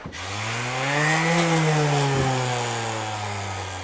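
Orbital sander working on a boat's painted surface during refinishing, a steady loud motor whine with a rising then falling pitch, running continuously and alone without talk.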